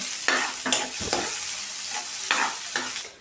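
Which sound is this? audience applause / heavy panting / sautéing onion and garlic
sautéing onion and garlic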